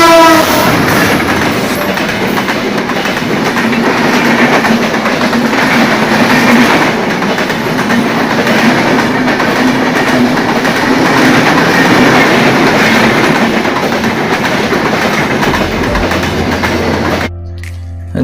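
Train passing close by at a rail crossing, a loud steady roar of wheels and carriages with rhythmic clatter that drops away near the end, no talking.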